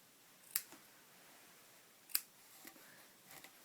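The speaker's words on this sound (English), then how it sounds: "when I finish that strip, I bring the end up and I cut it off" Scissors snip through the end of a wool strip during rug hooking: two crisp, close cuts a second and a half apart, then a couple of softer clicks, in a quiet room.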